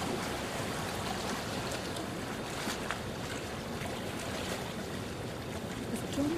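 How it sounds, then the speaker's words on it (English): Soliton waves flowing up the River Carron at Stonehaven, Scotland, heard as a steady, broad rush and wash of moving water with some wind noise, continuous and fairly close. "Waves are still being generated periodically and flowing up the river."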